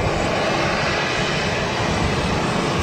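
An Airbus A330 jet airliner moves at Schiphol airport, its engines making a loud, continuous broadband roar that stays steady throughout with no voices over it.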